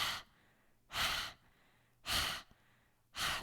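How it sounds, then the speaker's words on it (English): Forceful exhales from a Kundalini yoga breathing exercise, pushed out from the belly: four loud breathy bursts in a steady rhythm, about one per second, close and clear with quiet gaps between. "So focus on your exhales."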